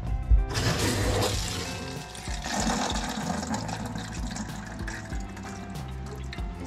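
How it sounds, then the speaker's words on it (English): Water runs from an opened tap into a toilet being tested for leaks in a renovated century-old ruin, a continuous splashing flow with a louder gush at the start and a dip midway. "I'm just gonna pour some water there and see if it leaks or not."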